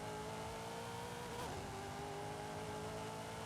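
Race car in Forza Horizon 5 run up through all its gears, a steady loud engine drone with rising tonal whine and a brief shift blip midway.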